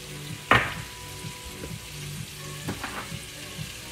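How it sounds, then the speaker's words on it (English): Shrimp frying in a pan with garlic salt and pepper gives a steady close sizzle, marked by one sharp clatter early on and a few softer utensil knocks, with no talking. "so you can just let that sizzle"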